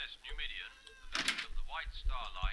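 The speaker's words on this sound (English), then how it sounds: "Okay, that's a door closing." A door closing in the video game Avarice, a brief thudding, broadband burst in the middle, surrounded by soft whispery speech-like game sounds.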